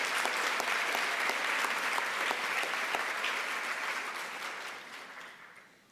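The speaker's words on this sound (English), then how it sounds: "Another round of applause for Mr. Dominguez." Sustained audience applause at a college convocation ceremony, dense steady clapping from a large crowd that gradually fades out toward the end.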